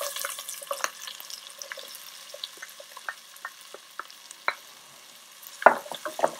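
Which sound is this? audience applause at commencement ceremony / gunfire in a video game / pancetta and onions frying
pancetta and onions frying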